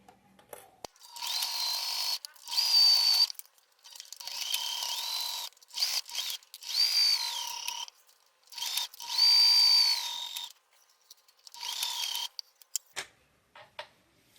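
A sewing machine stitches around a fabric box, running in short bursts of whirring with brief pauses between them, close and fairly quiet with no talk.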